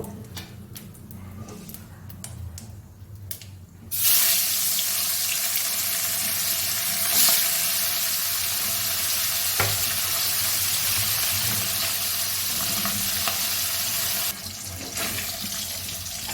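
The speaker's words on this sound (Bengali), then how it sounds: "আর 2টো মাছ আছে, ভেজে নেব।" Hilsa fish frying in hot oil in a Bengali kitchen, a loud, close, continuous crackling sizzle that jumps up sharply after a few seconds and holds steady to the end.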